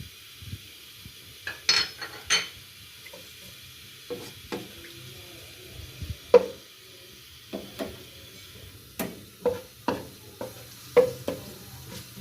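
Crushed garlic and ginger frying in about half a cup of cooking oil in a pan, a soft steady sizzle under repeated sharp clinks and scrapes of a spoon stirring against the metal, no voices.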